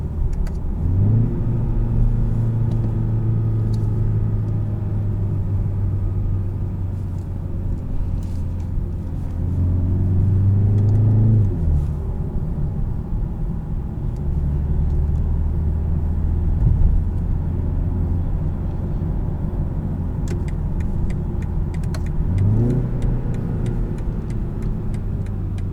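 A 2019 BMW 330i xDrive M Sport accelerates with quick gear shifts, a steady low engine drone rising in pitch and dropping abruptly at each change, heard continuously from inside the cabin without talk.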